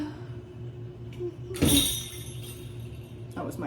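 A kitten leaps and knocks into something in a kitchen, giving a single sudden clatter with a faint glassy clink that fades over a low steady background hum.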